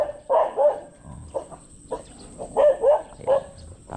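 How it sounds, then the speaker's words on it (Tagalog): Several dogs bark at a home garden with orchids, sharp, loud, close barks arriving in irregular bursts and pairs with short pauses between. "Tapang yung ating mga aso."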